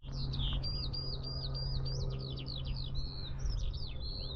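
Many birds chirp and sing continuously in open grassland, overlapping high tweets and trills filling the whole stretch over a steady low background hum, fairly close and clear.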